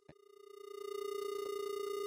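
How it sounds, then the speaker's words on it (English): Infinite feedback from a comb filter nested inside another comb filter in a reverb plugin, heard as a steady pitched ringing tone that swells from quiet to loud and holds, with a faint fluttering pulse. "An infinite feedback."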